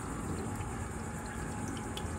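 Water steadily trickling and splashing into the pots of a hydroponic vertical grow tower, a continuous soft close-up flow with no other sounds.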